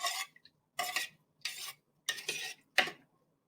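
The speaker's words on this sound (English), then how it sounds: "give it a little stir" A spoon stirs ingredients in a measuring cup, giving five short bursts of clinking and scraping with brief pauses between them, close up and with no talking.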